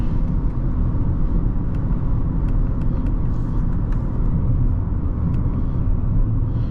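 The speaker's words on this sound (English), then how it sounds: "It's a 2025 Equinox LT front-wheel drive with no options to speak of" Steady cabin rumble of a 2025 Chevrolet Equinox LT front-wheel drive with a CVT, heard from inside while driving, a constant low road and engine drone with faint ticks and no talking.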